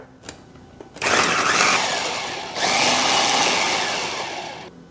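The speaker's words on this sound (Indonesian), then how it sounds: "Kita chopper sehalus mungkin." An electric food chopper grinds chicken meat with garlic and ice water, a short tap followed by the motor whirring up loudly, a brief lull, then a second sustained buzzing run that winds down.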